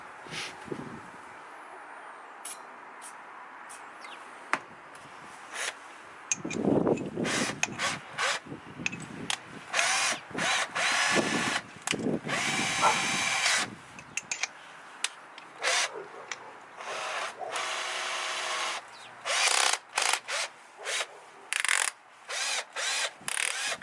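An old, cheap power drill whines and grinds in long bursts against a metal rear bumper of a third-generation Toyota 4Runner, stopping and restarting several times, loud and close with scraping and rattling between runs.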